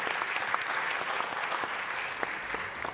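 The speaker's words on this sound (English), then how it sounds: "Please give a hand of applause to our panelists." An audience at an international insurance summit applauds the panelists, a sustained wash of many hands clapping at moderate distance, steady throughout.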